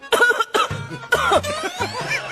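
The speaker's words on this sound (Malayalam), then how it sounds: "നീ ചുമക്കുന്ന കേൾപ്പിക്കാനാണോ" Several harsh, close coughs come in quick bursts, one after another, loud and unaccompanied by any speech.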